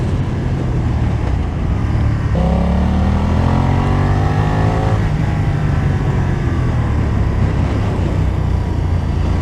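A 2020 BMW F900R A2 motorcycle engine while riding, with a steady close drone and revs that climb in smooth sweeps, set against continuous wind rush.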